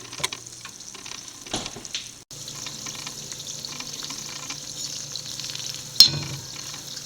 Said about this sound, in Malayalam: ചെറിയ ഉരുളകളായിട്ടാണ് ഇടുന്നത് അപ്പോൾ ഉള്ളിൽ അകം നല്ലപോലെ വെന്തും കിട്ടും ചെറിയ ലോ ഫ്ലെയിമിലുമാണ് ഇട്ടിരിക്കുന്നത്